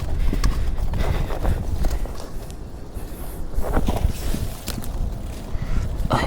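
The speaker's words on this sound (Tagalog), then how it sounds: "Tara na mga kabayo." Horses walking along a riverside, hooves clip-clopping in an uneven, close rhythm with gusts of wind across the microphone and no clear talking.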